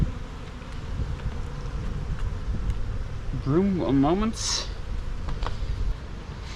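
Honey bees buzz steadily around a hive, a dense low drone with someone speaking briefly over it and some rustling movement nearby.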